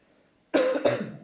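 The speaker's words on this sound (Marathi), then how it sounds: "खोकला झालाय हो मला." Two sharp coughs in quick succession, close and loud, after a moment of near silence.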